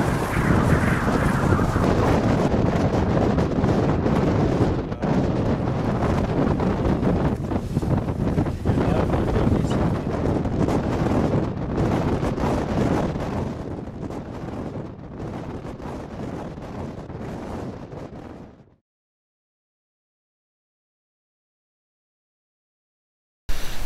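Strong, steady wind roars and buffets against the microphone on Macquarie Island for about nineteen seconds, loud and broadband, then cuts off into silence.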